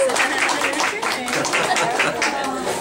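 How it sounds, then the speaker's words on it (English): A graduation audience claps and cheers with voices mixed in, a steady dense patter that stays loud for about three seconds. "So give them a round of applause."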